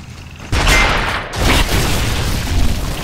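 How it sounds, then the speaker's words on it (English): A loud, close explosion booms in the video game Gears of War, then more heavy blasts and rumbling bursts follow in quick succession over a continuous noisy din. "Fucking hell, that explosion, bro."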